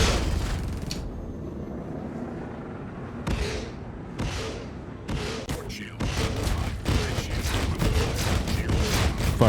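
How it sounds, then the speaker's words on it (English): Ballistic cannons on a spaceship in Star Citizen, a fixed front gun and a gimballed one, fire in dense, booming bursts that build into a loud, sustained barrage with short gaps between volleys. "Firing both my fixed gun in the front, the other one's kind of gimbalized"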